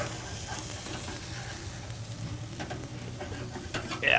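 A burger patty sizzles steadily on a hot grill, with a constant close frying hiss and faint scraping as a spatula works under it for the flip.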